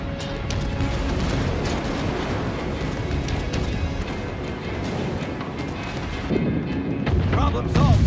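Warship guns in World of Warships: Legends firing on an onshore installation, a dense continuous roar of booming shots and rumbling mechanisms, with a heavier blast near the end; a voice is heard under the din.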